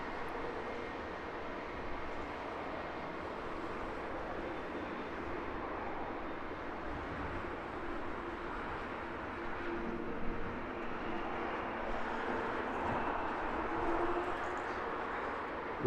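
A six-year-old Boeing 787-10 Dreamliner departing Heathrow for Jeddah makes a faint, distant, steady engine rumble that builds slightly toward the end, alone with no talk.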